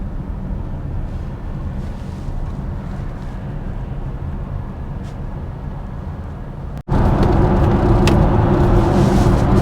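An electric car cruises along the road on a UK road trip, a steady low road and wind rumble inside the cabin that jumps noticeably louder partway through as speed or road surface changes, no talking.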